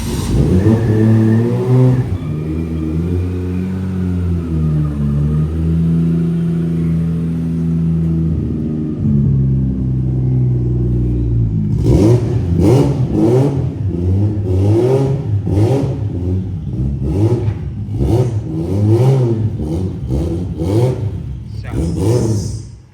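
A BMW E36 engine drones and revs at low-to-mid pitch, rising and falling steadily, then breaks into a choppy run of repeated on-off revs in the second half, loud and close.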